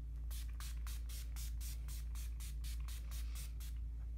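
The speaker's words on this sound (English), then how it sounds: "So I just take this and spray it." A rapid series of short, crisp makeup finishing spray bursts, about a dozen evenly spaced pumps, close up over a steady low hum.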